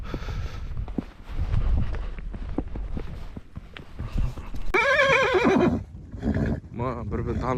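Horses whinny loudly in two long, quavering neighs close by, with hoof clip-clops and footsteps beforehand and voices in the background.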